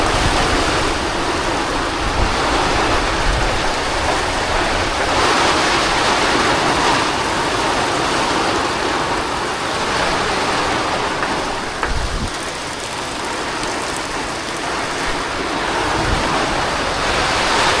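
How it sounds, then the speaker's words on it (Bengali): Heavy rain from a Kalbaishakhi storm drums loudly and continuously on a tin roof, a dense hissing roar that swells slightly and never lets up. "টিনের চালে পানি যে বাড়ি লাগতেছে"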